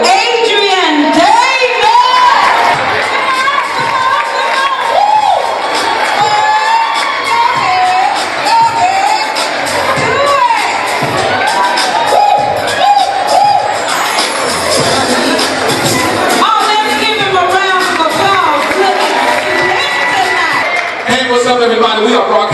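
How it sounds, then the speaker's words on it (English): Lively crowd at a live show cheering, whooping and shouting with scattered applause, loud and continuous, with excited voices and some shrill yells layered over the noise throughout. "let's give a round of applause to Michael Adrian Davis."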